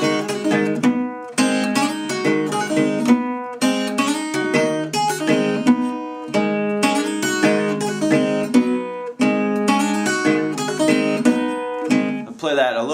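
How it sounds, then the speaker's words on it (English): Guitar riff, played solo and up close in a driving, repetitive hill-country blues pattern, with brief pauses between phrases and a quick slide at the end. "the first piece of that riff will sound like this"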